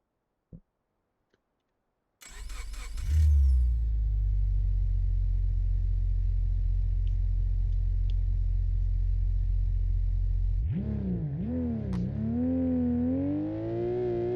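In the BeamNG driving game, a modded Carrera GT engine cranks and starts after a couple of faint clicks, then holds a steady low idle for several seconds before revving up and down toward the end.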